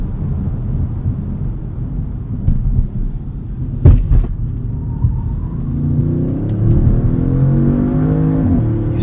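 A 2016 Audi S7's engine rumbles steadily through a hairpin corner, a deep close drone that briefly thumps, then swells into a rising rev as the car powers out, with no talking.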